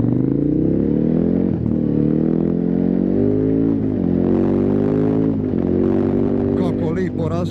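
A 2018 KTM 1290 Super Adventure S motorcycle accelerating hard, its engine pitch climbing steadily and dropping briefly at each of several gear changes, loud and close throughout.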